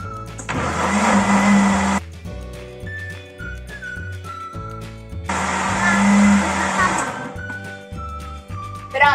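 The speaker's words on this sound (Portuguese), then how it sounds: "Liga aqui o liquidificador." A kitchen blender whirs loudly while mixing carrot cake batter with sugar, running in two strong bursts of about two seconds each, with background music playing throughout.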